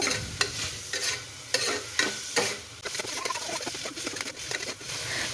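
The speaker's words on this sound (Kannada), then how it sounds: "ಆ ಈರುಳ್ಳಿಯನ್ನು ಕೂಡ ಇದಕ್ಕೆ ಮಿಕ್ಸ್ ಮಾಡೋಣ ಮಿಕ್ಸ್ ಮಾಡಿ ಸ್ವಲ್ಪ ಒಂದು ಎರಡು ನಿಮಿಷ ತನಕ ಮಿಕ್ಸ್ ಮಾಡ್ತಾನೇ ಇರಬೇಕು" Chopped onions for a mutton gravy are stirred in a frying pan, a spatula scraping in repeated strokes over a soft, close sizzle, with no talking.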